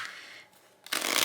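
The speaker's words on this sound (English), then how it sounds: "Beautiful shuffle." A deck of flexible, faint linen-finish tarot cards in Lenormand or bridge size is shuffled close to the mic, with a soft riffle followed by a louder burst of fluttering cards.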